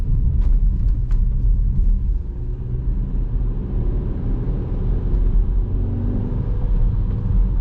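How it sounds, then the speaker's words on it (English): Dongfeng Forthing T5 EVO engine pulling at higher revs during a night test drive, a steady, loud low rumble from inside the cabin with a few faint clicks near the start. "quite a nice sound of the engine on higher revs."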